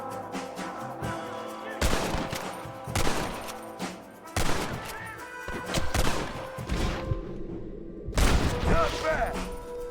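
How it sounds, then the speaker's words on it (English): Gunfire in the Western game Red Dead Redemption, several loud bursts of shots and crashes at irregular intervals over a steady game background, with a voice talking at times. "Someone's shooting from up here."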